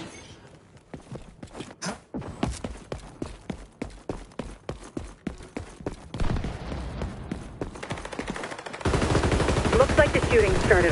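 Gunfire in the XDefiant video game on PS5 during a zone-capture match: rapid repeated shots in bursts, sometimes overlapping, building to a dense continuous barrage toward the end, with a voice speaking over the shooting.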